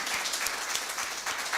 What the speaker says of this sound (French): je propose que les applaudissements ils aillent à Nicole